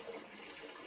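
Water poured steadily into a container while making strong homemade wine with sugar, a continuous splashing stream heard up close for the whole moment with no talk.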